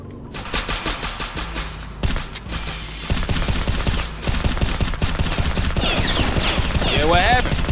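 Rapid video game gunfire from a Glock with a drum magazine, dense bursts of sharp cracks rattling almost continuously and growing louder and busier, with a voice speaking in places.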